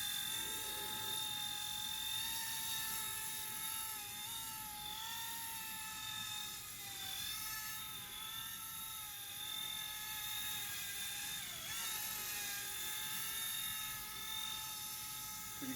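A gyro-stabilized Vevor RC helicopter flies nearby with a thin, high-pitched rotor and motor whine that wavers slightly in pitch as it wobbles, steady and fairly quiet throughout.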